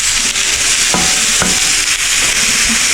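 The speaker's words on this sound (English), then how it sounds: "So I'm going to continue to stir fry" Carrots and other vegetables stir-fried in a pan, giving a steady close sizzle with a few sharp scraping clatters from the utensil moving the food around.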